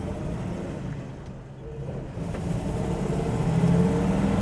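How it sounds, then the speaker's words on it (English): A manual-shift 1970 Dodge Challenger R/T-style car creeps forward and builds speed in Daytona Beach traffic, its engine a low, rumbling growl that dips briefly, then swells steadily louder, heard from inside the car. "So we'll inch it up a little bit."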